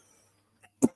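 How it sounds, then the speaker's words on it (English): A single short cough bursts out at the end after near silence, preceded by a faint small throat sound, fairly close. "They can hear you coughing."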